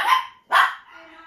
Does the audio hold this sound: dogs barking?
yes